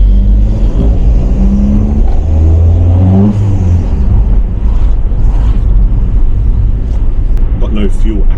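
A car with a freshly deglazed clutch pulls away on a wet road and revs hard, its mid-pitched engine rising and falling steadily and close by, with someone talking over it throughout.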